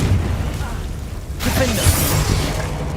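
A Confringo spell explosion in Hogwarts Legacy, a broad burst that flares up midway through a steady din of game sounds, with speech mixed in.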